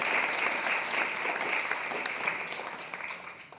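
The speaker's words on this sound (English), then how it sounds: "Applaud it." A crowd claps steadily for a few seconds, dense and even applause that gradually tapers a little toward the end, with no talking over it.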